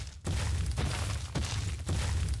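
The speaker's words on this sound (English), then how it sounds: "is the sound of a not aggressive Carno that is just looking for something to be aggressive on." A non-aggressive Carnotaurus from the video game Ark gives low, rumbling bursts in a steady loop, with brief gaps between deep, sustained pulses; it is loud and heard alone.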